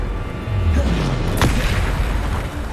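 A single heavy slam from the Descendo spell in Hogwarts Legacy lands with a deep, booming thud and brief crackle, rising out of a rumbling low background and fading quickly.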